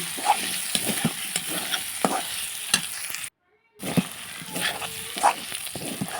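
Chicken cooks in a frying pan as a spatula stirs it in quick, uneven scraping strokes over a constant sizzle. The sound cuts out briefly midway, then the stirring resumes.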